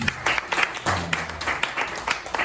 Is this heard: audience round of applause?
yes